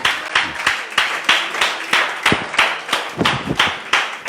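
A church congregation claps in a steady rhythm, many hands striking together in regular beats, loud and continuous without talk.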